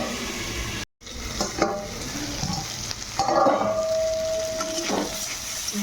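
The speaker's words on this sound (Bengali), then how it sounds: "আলুটা কিছুক্ষণ আমি টমেটোর সঙ্গে ভেজে নেব" Cut potatoes fry with tomato in a pan for aloo posto, giving a close, steady sizzle broken by stirring scrapes and clatter, with a brief dropout near the start and no speech.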